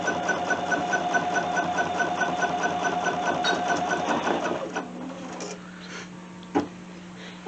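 An embroidery sewing machine stitching down log cabin quilt strips in the hoop, a fast steady mechanical whir and needle chatter that stops partway, followed by quieter handling clicks and a single sharp knock.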